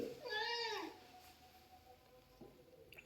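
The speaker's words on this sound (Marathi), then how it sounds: "तू मांजर आहे ना बबड्या" A single cat meow, clear and close, followed by quiet room noise.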